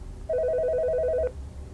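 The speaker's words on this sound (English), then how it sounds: "when all of a sudden the phone rang." A telephone ringing once in a quiet home at night, a single loud electronic ring tone pulsing rapidly for about a second, close and clear against low background hum.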